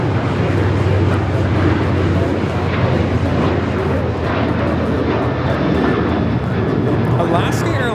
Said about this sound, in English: Alaska Airlines 1147 taking off to Seattle on the 737-900ER in the One World livery